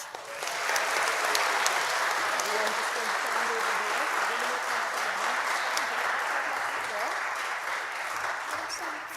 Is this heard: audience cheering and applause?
yes